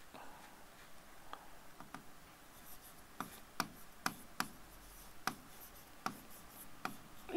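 Chalk or marker strokes tap and scrape across a classroom board while Bengali is written, a series of sharp, evenly spaced ticks growing more frequent, close and fairly quiet, with no talking.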